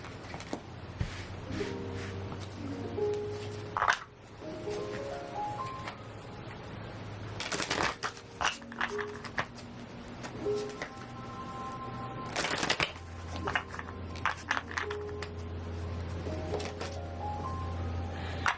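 Cards from a tarot deck shuffled and drawn by hand, with soft riffling and sliding paper flicks, a few sharp snaps and taps, and faint background music throughout; no talking.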